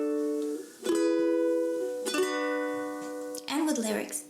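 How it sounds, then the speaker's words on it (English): Single down strums on a ukulele, one per chord, each ringing out and sustaining before the next, with a final strum ending in a quick rising slide, close and solo without talk. "the last 6 time you will need to play just 1 down strum on each chord, and it's gonna sound like this"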